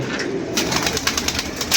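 Pigeons coo softly amid steady outdoor noise, with a few brief fluttery bursts, near but fairly faint and with no talking.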